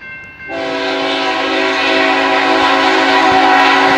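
A loud Union Pacific train horn blasts suddenly and holds a long, steady chord, sounding close and continuous with faint rail rumble underneath.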